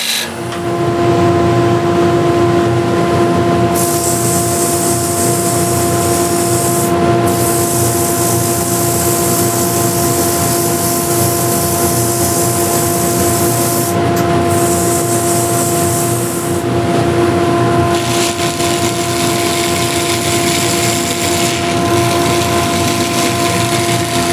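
A wood lathe's steady motor whir with a constant hum, overlaid by a bright abrasive hiss of sanding an 11-inch wooden plate that cuts in and out in bursts. No one speaks.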